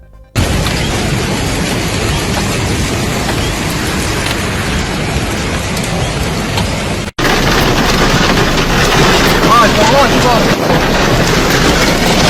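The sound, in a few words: hail storm with wind in Saudi Arabia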